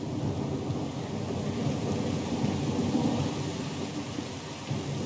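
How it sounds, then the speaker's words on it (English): Stormy weather in the video game Pillars of Eternity II: Deadfire, a dense roar of heavy rain with rumbling thunder, steady and loud throughout with no voices. "Lost and alone in the storm?"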